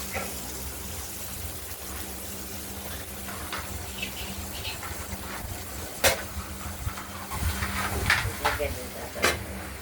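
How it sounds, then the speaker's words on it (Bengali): Four-cut bitter gourd pieces sizzle in mustard oil in a pan, a steady soft frying hiss with occasional louder pops and clinks while a voice talks over it. "তারপর একটু লাল লাল লাল করে ভেজে নেব এই উচ্ছেগুলোকে"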